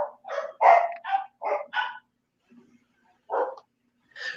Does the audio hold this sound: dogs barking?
yes